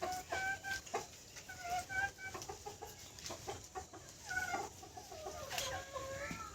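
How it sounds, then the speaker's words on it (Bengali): Native chickens cluck continuously on a farm, a flock close by with overlapping short calls and chirps across the whole stretch, with no talking over them. "দেখতে পাচ্ছেন দেশি মুরগিগুলো।"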